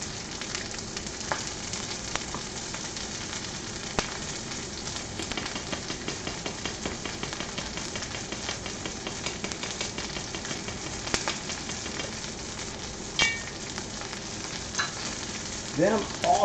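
Kielbasa sausage sears in a hot pan with a steady, dense sizzle and crackle that runs unbroken throughout, close and even, with a few light clicks and no voices.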